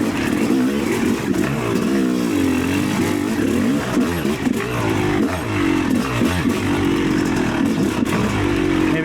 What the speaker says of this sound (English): You take off in third fucking gear on this bike, and it just feels really good with this 1351 gearing